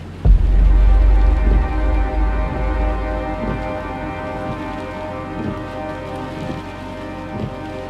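Steady rain drumming on a car windshield, loud and close, with a dense wash of drops and faint, evenly spaced swishes like droning wipers underneath.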